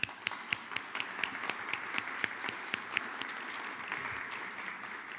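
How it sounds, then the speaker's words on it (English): At a symposium's opening remarks, an audience applauds with sustained, moderately quiet clapping, a few distinct louder claps punctuating the steady patter before it thins out. "please join me in applauding them"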